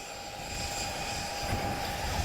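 Display aircraft flying at an airshow in Portugal, a steady broadband engine roar holding at a constant level throughout, fairly distant, with no voices over it.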